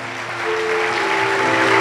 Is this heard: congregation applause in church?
yes